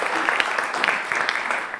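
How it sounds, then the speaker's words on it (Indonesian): A crowd on a Catatan Demokrasi studio set claps for the sponsor BHS, a brisk, steady patter of many hands at moderate loudness that keeps going for the whole stretch. "Boleh tepuk tangan buat BHS."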